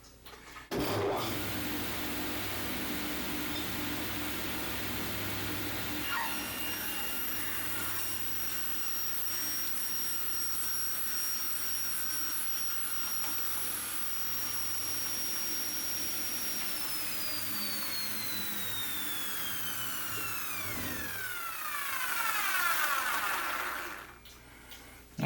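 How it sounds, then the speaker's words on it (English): A table saw runs with a loud, sustained whine and rushing hum as its spinning blade is raised up through a fresh throat insert, then spins down toward silence near the end. "Now the idea is I should be able to just raise the blade up through that."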